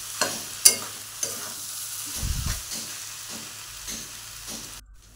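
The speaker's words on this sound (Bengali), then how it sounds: "ভালো করে নেড়ে নেব।" Cabbage being stirred in a frying pan with garam masala, a few sharp scraping strokes of the spatula over a soft, steady sizzle, with a brief low thump in the middle before the frying fades out.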